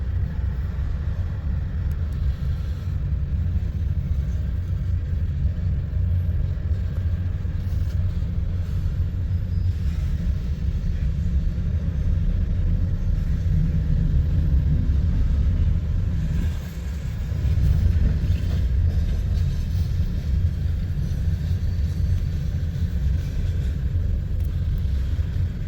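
Westbound empty coal drag of mostly TILX hopper cars rolling past on track 2 at Missouri Valley, Iowa, a steady low rumble and rattle of wheels that holds constant throughout, moderately distant, with no talking.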